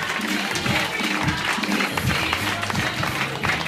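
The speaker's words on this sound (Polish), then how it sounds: "Wielkie brawo, proszę Państwa." Audience applauding at a wedding reception during the couple's Latin dance, sustained dense clapping from a crowd with some voices mixed in throughout.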